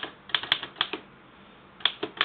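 Typewriter keys clacking in short irregular bursts with a pause in the middle, close and crisp, no voices.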